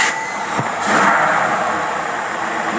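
Engine fitted with a Holley 4780 double pumper carburetor and manual choke starting up, a brief crank catching into a loud, rough rumble that settles toward idle, close to the microphone.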